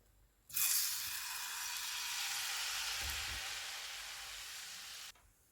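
Egg paratha batter of vegetables and egg hits hot ghee in a frying pan with a sudden loud sizzle that holds steady for about four and a half seconds, then cuts off.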